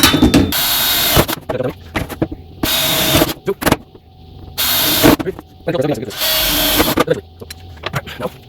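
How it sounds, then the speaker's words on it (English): A power drill whirs in several loud bursts of a second or two each, drilling holes in the corners of wood for a dog house, separated by pauses with clicks and handling noises. "What we're going to do first is drill holes in the corners"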